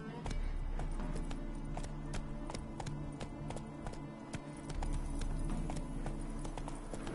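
Horse hooves gallop in a quick, steady clip-clop rhythm in the video game The Witcher 3, fairly faint and continuous under a low ambient background.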